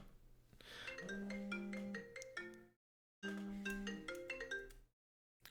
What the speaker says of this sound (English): Oh, my phone's ringing, which is very unprofessional of me.